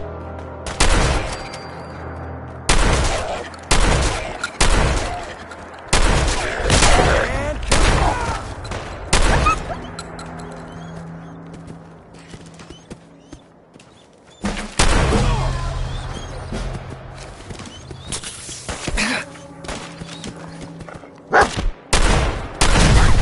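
Repeated loud gunshots and volleys in Fallout 4 combat, irregular bursts spaced throughout with brief lulls between, close and dominant.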